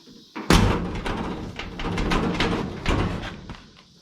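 A car driver's door slams shut with a solid thump, followed by a rattling rumble and a second, softer thud before it settles.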